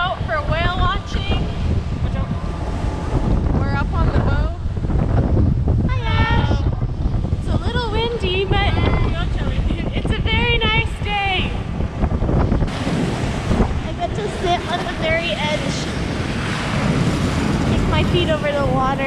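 Wind buffets the microphone on a whale watching boat out on open water, with steady gusting noise and waves washing around the hull. Voices and bird-like calls are heard throughout.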